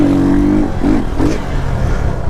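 A Lifan KP motorcycle engine revs hard through a second-gear wheelie, loud and close, its tone climbing and then dipping in short surges.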